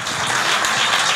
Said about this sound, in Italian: Grazie a voi, applauso ai musicanti.